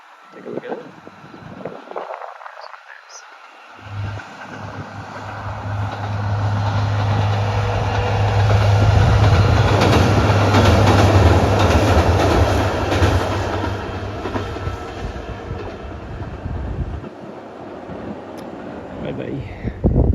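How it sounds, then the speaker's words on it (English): A train passes on a walk through Japan. The rumble and clatter swell as it nears, stay loud and close for several seconds with a steady low drone, then fade away. "There goes the train."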